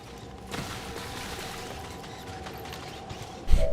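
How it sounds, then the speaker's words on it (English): Mechanical whirring and creaking from a soldier's powered armor in XCOM 2, a continuous grinding hum with ratchet-like clicks, a sharper mechanical jolt near the start and a louder burst at the end. "he makes all these whirring noises from his armor"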